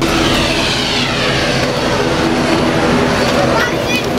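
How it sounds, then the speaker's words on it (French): A loud, continuous small airplane engine roar, close and unbroken, dominating the whole stretch. "Voilà notre avion."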